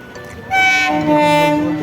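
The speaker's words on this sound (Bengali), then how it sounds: "এই ট্রেনটা আসছে আপনার দমদম হয়ে" A train horn blares loudly and steadily over the rumble of a nearby train at Bagbazar, Kolkata, sustained tones holding through the second half.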